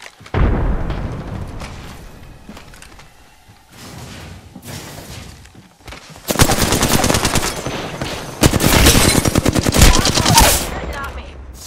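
Weapon fire in Apex Legends: bursts of rapid automatic gunshots, loud and close, with quieter stretches and a few single shots between, ending in long sustained strings of fire; a voice is faintly present under the action.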